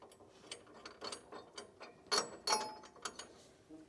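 A hand ratchet clicks in quick bursts while tightening nuts onto the bracket bolts of Firestone Ride-Rite air helper springs on a 2020 Ram, close but quiet, with brief pauses between strokes.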